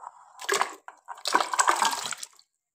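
Potatoes go into a pot of heating salted water on a home kitchen stove, with splashing and dripping bursts near the pot, a short one followed by a longer run of sloshing water.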